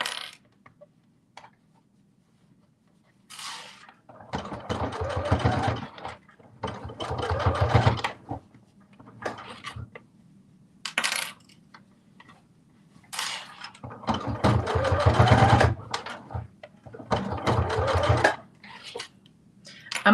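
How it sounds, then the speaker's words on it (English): A sewing machine runs a basting stitch on fabric slippers, sewing in several bursts of rapid mechanical clatter separated by short pauses and quieter gaps. "I'm also doing my basting stitch within the seam allowance"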